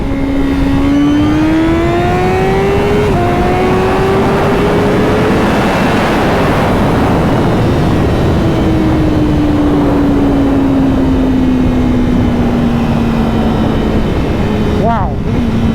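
Honda CBR 1000RR-R Fireblade SP superbike pulls hard in second gear, its engine howling loud and rising steadily with a brief shift break, heavy wind roar throughout and a rider's voice under it.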